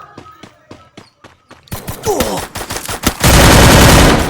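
Rapid gunfire from an MP5 in the video game Free Fire, loud bursts of repeated shots that build into a dense, heavy barrage of fire at the end, close and sharp with no talking over it.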